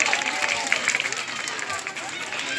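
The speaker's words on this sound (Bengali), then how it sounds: "চলুন না সবাই মিলে একটা জোরে করতালি হোক জোরে করতালি হোক" Audience applause at a Bengali stage event honouring a performer, a broad steady patter of clapping from a crowd with voices mixed in, sustained through the moment.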